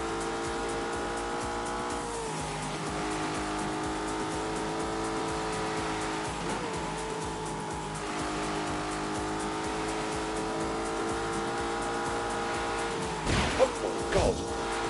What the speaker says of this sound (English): All you can do is fire it up and then put the drive system into snow mode.